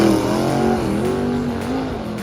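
A turbocharged drag car making over 780 horsepower roars loudly down the track at full throttle, its engine note holding a strong, steady pitch with a slight rise as it pulls away.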